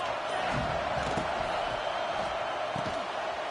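A football stadium crowd at an Oklahoma vs Auburn game cheers for the defense, a continuous, even roar of many distant voices with no clear breaks.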